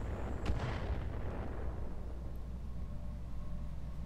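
A single heavy, booming blast from grenade launcher fire in the Roguetech mech combat game, a deep explosion that rolls out and fades into a low rumble.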